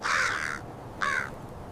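A crow in a children's story gives two loud, harsh caws about a second apart over quiet background hiss.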